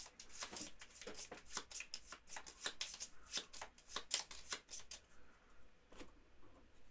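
A deck of playing cards being shuffled for the Gloomhaven board game, a steady run of crisp riffling snaps and flutters at close range, fairly quiet, with no talk over it.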